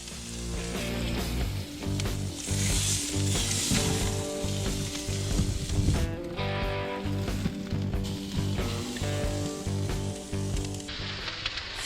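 Prime rib sears on a Masterbuilt Gravity Series grill, a loud, continuous crackling sizzle close up, with bursts of hissing and spattering as the meat is turned.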